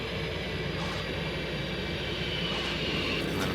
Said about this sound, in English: we're landing a fighter at a municipal airport